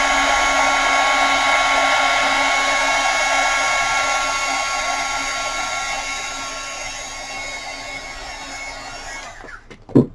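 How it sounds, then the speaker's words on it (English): A heat gun blows steadily and loudly while warming a stuck jar lid to loosen it, a constant whooshing motor drone that fades slightly before cutting off with a brief clatter at the end. "If you have a cap that won't come off, if you just heat it a little bit with your heat gun, it'll loosen the medium"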